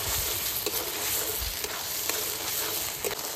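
Spice paste of masala with tomato, salt and turmeric fries steadily in oil in a pan, a continuous sizzle broken by a few soft scrapes of stirring, close and alone without talk.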